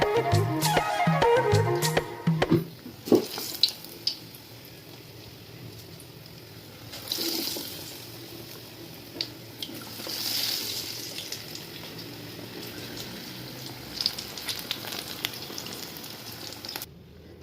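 Raw banana bajji fritters drop into hot oil and fry with a steady, close crackling sizzle that swells and settles, with occasional sharper pops and clinks of a utensil; no voices.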